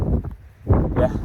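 Wind gusts over an open hilltop in the Peak District. Heavy low buffeting hits the microphone in two strong surges, loud and close, with a short lull between them.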